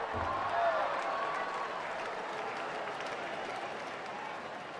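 A baseball crowd at an Atlanta at Colorado game makes a steady, distant roar and murmur as a fly ball drifts foul down the right-field line, with a commentator talking over it.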